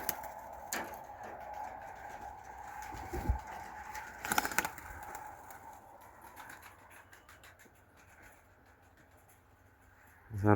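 Pigeons coo softly at evening feeding time, with a few low murmuring calls and a brief flurry of rustling or wing sounds partway through, then a louder bump at the very end.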